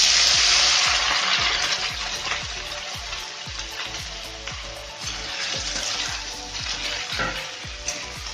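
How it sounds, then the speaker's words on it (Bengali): Whole spices (phoron) fry lightly in oil with a steady sizzle, strongest at first and then easing, while soft rhythmic stirring knocks repeat throughout. "এবার ফোড়নটা হালকা করে ভেজে নিচ্ছি।"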